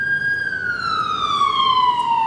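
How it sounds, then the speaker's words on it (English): An ambulance siren passes a commercial studio space as a loud, steady wailing tone that slowly falls in pitch, with road traffic rumbling underneath. "Sorry, there's an ambulance."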